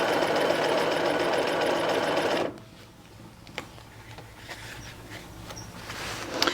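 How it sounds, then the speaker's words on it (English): A sewing machine stitches a dress hem facing with a dense, fast mechanical whirr for a couple of seconds, then stops, followed by soft fabric handling and light clicks. "I'm going to roll the needle in, and I'm going to take a couple of stitches before back stitching"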